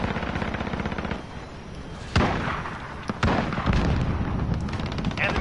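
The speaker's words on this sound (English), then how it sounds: "Enemy sentry gun active." Enemy sentry gun rattling off rapid automatic fire in a first-person shooter match, steady fast bursts running throughout, with a few sharper loud blasts cutting in and other gunfire layered behind.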